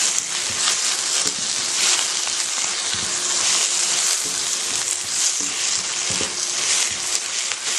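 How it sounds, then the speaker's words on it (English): Mutton frying in a pan with salt and a handful of curry leaves, a dense, steady, loud sizzle that holds unbroken throughout, no voices over it. "and fry."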